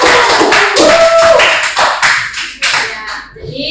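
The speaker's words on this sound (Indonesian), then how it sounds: "beri aplaus untuk" Brief applause breaks out in a classroom meeting, several people clapping quickly for a few seconds before the claps thin out and fade.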